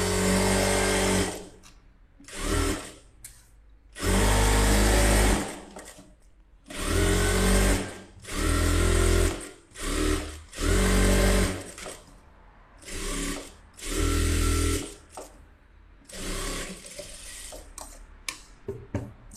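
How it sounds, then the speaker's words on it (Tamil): A sewing machine runs in repeated bursts of a few seconds each while stitching lining fabric around a guide, with short pauses between runs and no talking. "நல்லா அந்த கைடு அளவுக்கு விட்டுட்டு தையல் போட்டுக்கோங்க"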